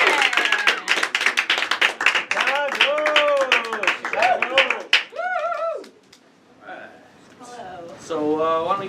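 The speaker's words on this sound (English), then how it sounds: "Give a big PRC round of applause to Kelly Kirk" An audience at an improv comedy show applauds and whoops for improviser Kelly Kirk, a loud, dense burst of clapping with cheers that fades out, followed by voices calling out.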